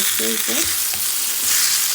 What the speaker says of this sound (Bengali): বেগুনটা ভেজে নিচ্ছি